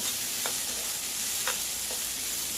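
Thai curry paste fries in oil with lemongrass and kaffir lime leaves, a steady sizzle with a few brief scrapes as it is stirred.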